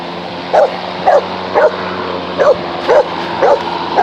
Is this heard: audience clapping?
no